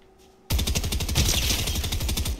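Gold SMG automatic gunfire in Fortnite, a loud rapid burst of evenly spaced shots starting abruptly and running for about two seconds before cutting off.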